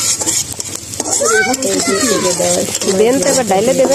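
Food with carom seeds sizzling steadily in a hot pan with occasional stirring, while a voice talks over it.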